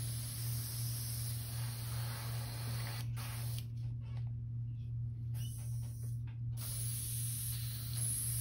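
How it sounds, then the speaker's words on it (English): An airbrush sprays paint in steady hissing bursts while being cleaned out, with a constant low compressor hum underneath and brief pauses where the spray cuts off, close and fairly quiet. "Clean this out of my airbrush."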